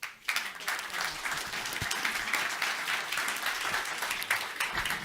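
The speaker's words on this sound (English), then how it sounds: "I will ask the audience to give you a round of applause" An audience at a conference session applauds steadily throughout, a dense wash of many hands clapping at moderate distance with no talk over it.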